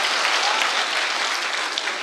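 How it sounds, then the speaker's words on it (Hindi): An audience at an Urdu poetry recital claps in a dense, steady burst of applause, close and fairly loud, with no voices over it. "आप लोग अगर तालियां बजा रहे हैं तो मिलके बजाते हैं एक बार"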